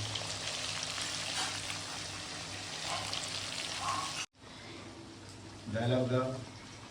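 Hilsa fish frying in a little oil, a steady broadband sizzle that runs throughout, cuts out for a split second, then swells louder near the end, with talk going on over it.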